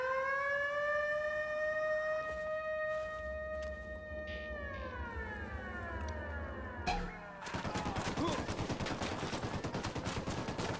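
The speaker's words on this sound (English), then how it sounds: "Taking fire from the camp." Gunfire from an enemy camp in Ghost Recon Wildlands breaks out as a rapid, dense volley of shots after a long wailing siren fades, the rattling bursts continuing to the end.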